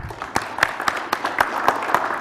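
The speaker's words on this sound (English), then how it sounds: "Give yourselves a huge round of applause." Conference attendees clap after a panel discussion, with sharp, uneven hand claps over a soft murmur of voices.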